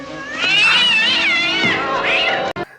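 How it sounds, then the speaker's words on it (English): A cat meows loudly and close up, a long wavering cry followed by a second shorter meow, ending with a brief click. "Holy cats! A cat!"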